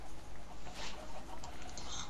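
Minecraft chickens cluck in a short, steady run of soft calls over a noisy game background.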